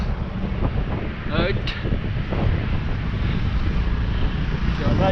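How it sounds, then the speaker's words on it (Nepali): Strong wind roars steadily across the microphone during a mountain bike ride on a hard trail, a loud, constant rumbling buffet with brief faint voices. "आम्मामा हावा आएको"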